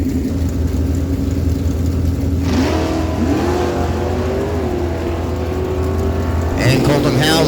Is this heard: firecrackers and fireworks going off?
no